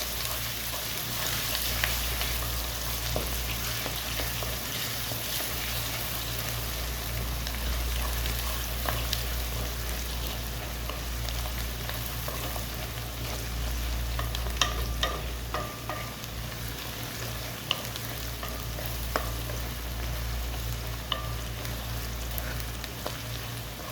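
Onions fry with ginger garlic paste in a pan, making a steady, dense sizzle that continues without pause, with a low hum beneath and faint occasional clicks of stirring.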